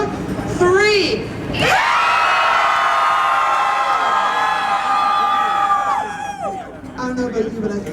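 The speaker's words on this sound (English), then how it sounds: "So, on 3, we're all going to yell as loud as we are upset, okay?" A protest crowd at a 1997 demonstration against arts funding cutbacks yells together on a count of three, a loud, sustained collective roar lasting several seconds, preceded by brief talk and fading into scattered cheers and chatter.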